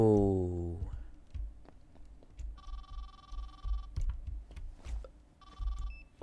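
A telephone rings in the FNAF-style horror game Freadbear's Diner, two bursts of electronic trilling tones separated by a pause, heard over a low rumbling ambient background.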